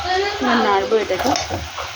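Chicken fries in a pan while being stirred, a steady sizzle with scraping stir strokes, close and moderately loud, with a faint voice murmuring in the background.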